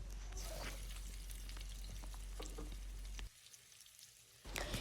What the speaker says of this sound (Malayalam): ഇനി ഈ സവാള നന്നായിട്ടൊന്ന് വാടുന്നവരെ ഒരു 4-5 മിനിറ്റ് നന്നായിട്ട് സോട്ട് ചെയ്യാം